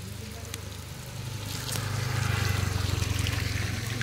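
Fresh water trickles and splashes steadily into containers beside a roadside source on the way to Rishikesh, over a low engine-like rumble that swells louder partway through.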